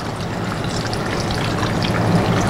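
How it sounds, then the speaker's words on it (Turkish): One litre of water pours into a cooking pot of layered vegetables and radish, a continuous close, loud splashing gush that holds steady for a couple of seconds with no voices. "Bir de 1 litre suyumuzu ekliyoruz. Şöyle ben biraz gezdireceğim."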